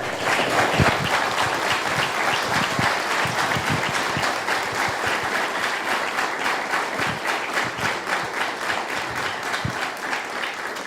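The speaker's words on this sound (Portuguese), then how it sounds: "eu gostaria de uma salva de palmas bem forte" A church congregation at an evening youth service in Aquidauana bursts into strong, sustained applause, dense and loud from start to finish, with a few sharper claps standing out near the front.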